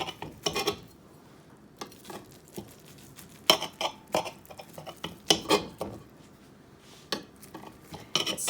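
A utensil cuts a cooked breakfast dish into sections inside a pan, making irregular metallic scrapes and clinks against the pan surface, close and fairly loud, in bursts separated by brief quiet.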